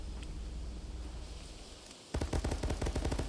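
SKS rifle fire in a video game: a quiet stretch of ambient rumble, then a sudden burst of rapid, loud, closely spaced shots that carries on to the end.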